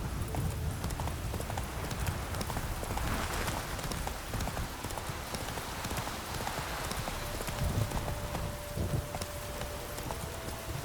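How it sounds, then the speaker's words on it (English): Horse hooves clip-clop steadily at close range as a horse walks in The Witcher 3: Wild Hunt, with a faint ambient bed behind the rhythmic footfalls. "Whoa there, Roach"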